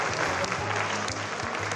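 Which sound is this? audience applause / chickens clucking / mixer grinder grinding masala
audience applause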